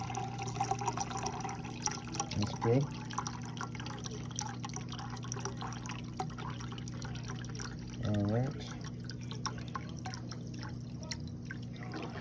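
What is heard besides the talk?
water being dumped and dripping while testing a new ice maker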